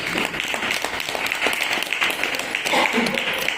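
An audience claps during a Jain monk's sermon, Muni Shri 108 Pratik Sagar's: dense, steady applause that fills the whole stretch, with a voice faintly mixed in.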